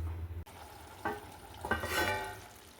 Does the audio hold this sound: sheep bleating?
no